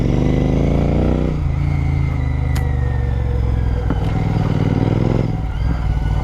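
A Royal Enfield GT 650 motorcycle with an RRP exhaust revs hard in a dense forest, its loud, steady engine drone rising and falling with throttle blips and a few sharp crackles, close by and without voices.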